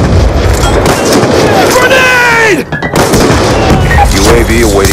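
Grenade blast and gunfire in a Call of Duty-style first-person shooter, with dense, loud booms and shots running throughout, a brief dip near the middle, and game radio voices layered over the combat.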